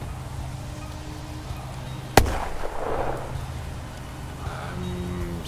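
A grenade goes off in The Troop, a military strategy game: one sharp, loud blast followed by a rumbling tail over a low, steady background hum.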